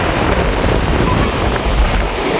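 Big sea waves and strong wind at a beach, a loud, steady broadband roar of surf and wind buffeting the microphone throughout, with no voices.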